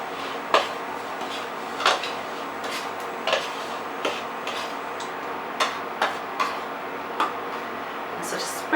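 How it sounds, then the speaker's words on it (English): Flour seasoned with salt and pepper is mixed on a plate, producing irregular light clicks and taps of a utensil against the plate, close up and with no speech. "And I'm adding some salt to it and some pepper, and I'm going to mix that in."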